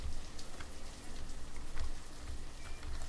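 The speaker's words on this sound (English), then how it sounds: "The rain, not a fan of the rain." Steady rain in the village-building game Banished hisses softly and continuously, a faint wash of falling drops with scattered patters and no voices.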